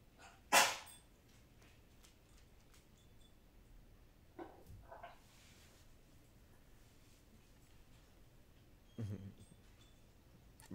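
A dog barks once, sharply and fairly loud at the start, then a few fainter noises follow in a quiet room.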